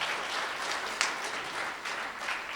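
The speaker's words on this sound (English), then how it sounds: "So let's give him a round of applause." An audience at a technology conference applauds, a steady patter of many hands clapping at moderate distance, fairly faint, with one sharper clap standing out.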